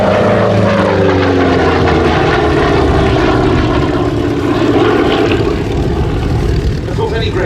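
A Republic P-47D Thunderbolt fighter, 'Nellie', at an air festival at Duxford: its big propeller engine drones loud and steady, with a clear pitch shift as it passes close by, under a commentator's voice.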